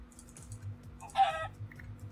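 Chickens in a Minecraft survival game, a few short clucks and squawks bursting out around the middle over quiet game noise and soft rhythmic footstep-like thuds.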